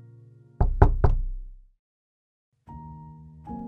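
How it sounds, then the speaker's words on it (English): Three loud, sharp knocks on a door in quick succession, close and dry, followed by silence and then a sustained low musical tone. "be awed by a knock on the door."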